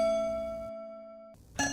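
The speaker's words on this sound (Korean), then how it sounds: "초인종이 울렸어요." A doorbell rings in a horror story scene with a clear, sustained electronic chime tone that fades, then a second brighter ding cuts in at the end, alone in a quiet room.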